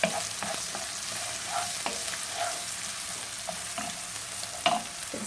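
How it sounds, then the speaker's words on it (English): Onions sautéing in a pan for a kale with tahini sauce dish, worked with a wooden spoon, giving a steady low sizzle and occasional soft scraping strokes, close and fairly quiet, with no talk. "going to add my onions to my pan. use a wooden spoon so I can mix that around."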